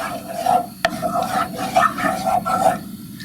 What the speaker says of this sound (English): melting some butter in a skillet